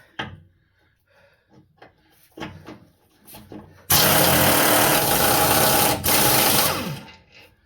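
A power tool spins off the tow hook bolts on a Toyota Tundra: a loud, steady buzzing whir starts partway through and runs for about three and a half seconds with one brief dip, after quieter clanks and handling of tools.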